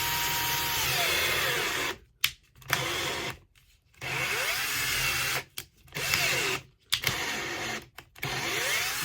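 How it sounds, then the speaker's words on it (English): A cordless drill whirs in several bursts, drilling into soft lead for catfish dragging weights, spinning up and stopping with short pauses between runs; loud and close, with no talking. "The lead is soft now, so it's easy to drill."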